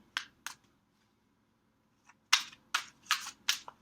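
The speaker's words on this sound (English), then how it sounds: "These decks are kind of hard to shuffle because they're very slick." Slick, glossy tarot cards shuffled by hand: two quick riffling bursts, a pause, then a faster run of four or five sharp papery flicks, close and fairly quiet.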